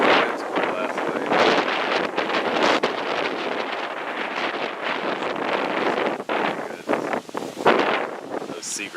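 Strong gusty wind in the aftermath of a hurricane buffets the microphone outdoors, a loud continuous roar with rough surges and brief dips throughout.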